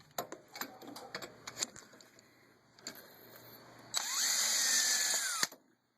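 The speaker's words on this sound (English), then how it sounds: "I'm just going to make that hole just a little bit bigger with my drill" Scattered taps and clicks, then a power drill whirs loudly for about a second and a half, enlarging a hole in a Yamaha Grizzly 700 CV boot guard, before stopping abruptly.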